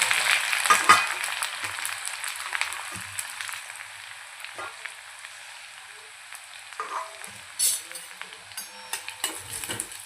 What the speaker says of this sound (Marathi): तेल छान आपल्याला गरम होत आहे बघा छान आपलं गरम झालंय यामध्ये आता आपण ही हळद ॲड करूया